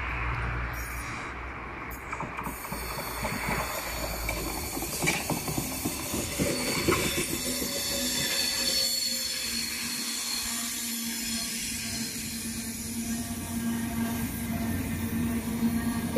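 A Stadler KISS S33 electric commuter train rolls past in Schaffhausen near the station, a steady rumbling and whining drone with rail clatter lasting throughout, fairly distant and uninterrupted.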